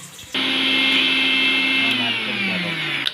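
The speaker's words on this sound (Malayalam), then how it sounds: "ഇത്രയും ഭാഗം നമുക്ക് ആദ്യം ഒന്ന് അരച്ചെടുക്കണം തേങ്ങയും മുളകും" A kitchen mixer grinder runs hard on coconut, chilli and cumin for a home-style Kerala aviyal, starting abruptly and holding a loud, steady whine with a slight drop in pitch toward the end.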